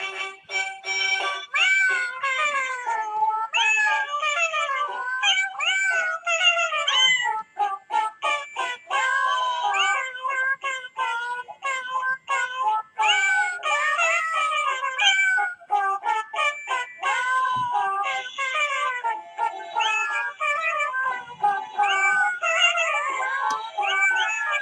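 A cat meows repeatedly and loudly nearby, a long run of drawn-out, wavering cries with brief gaps, heard alone without talk.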